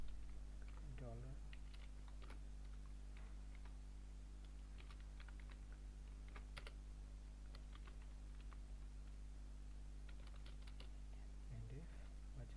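QBASIC code being typed on a computer keyboard: quiet, scattered keystroke clicks in short bursts over a low steady hum, with no one talking.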